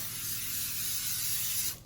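Oil spray hisses steadily onto parchment baking paper in one continuous, close burst lasting nearly two seconds before cutting off, with no talking.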